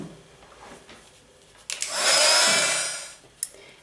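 A craft heat tool set to heat distress ink on stamped paper roars on as a steady, loud blowing hiss for over a second, then clicks off, with faint handling sounds before and after.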